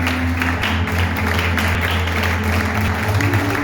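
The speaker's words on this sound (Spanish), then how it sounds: "les aplaudimos, les aplaudimos a todos" An audience applauding the finalists of a speech contest on stage, a dense and loud sustained clapping in a hall with a steady low hum beneath it.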